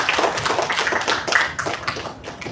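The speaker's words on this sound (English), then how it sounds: "A big round of applause." Audience clapping closes a personality development and life skills training talk, a brisk, fairly close patter of hands that thins out toward the end.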